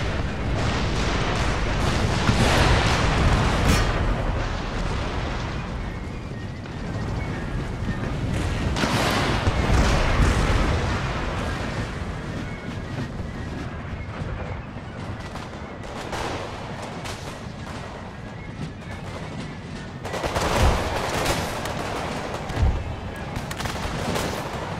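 Cannon fire in Empire: Total War, a series of deep booming blasts at irregular intervals over rumbling battle noise, some close and loud, others fading into the distance.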